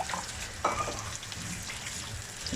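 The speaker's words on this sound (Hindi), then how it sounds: "ये मैंने ऑयल गर्म हो गया है मेरा, और अब इसमें मैं ये प्याज ऐड कर रहा हूँ।" Onions tipped into hot oil in a home kitchen for an aloo matar gajar vegetable dish, giving a steady close sizzle and crackle with a brief louder burst as they hit the pan, no talking.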